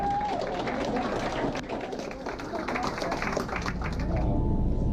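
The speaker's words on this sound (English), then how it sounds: "Please, round of applause." A crowd applauds steadily, dense clapping mixed with some cheering and voices throughout.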